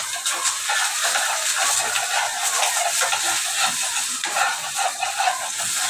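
An egg fries for breakfast in a pan, giving a steady, close sizzle and crackle broken by light scraping and stirring, with no one talking.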